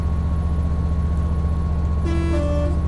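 Class 67 locomotive horn in Train Simulator 2020, a short two-tone blast sounding over the steady low rumble of the idling diesel engine.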